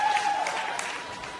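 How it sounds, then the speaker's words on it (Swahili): An audience at a celebration clapping for a woman named Anifa, a soft scattered patter of hands with a faint high tone running through it; no clear ululation stands out. "makofi mengi na vigelegele kwa dada Anifa"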